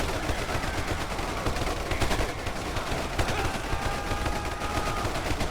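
Dense rapid gunfire from massed soldiers in a large fantasy-versus-army battle in Ultimate Epic Battle Simulator, a continuous crackling fusillade of overlapping shots with no pauses, loud and steady throughout.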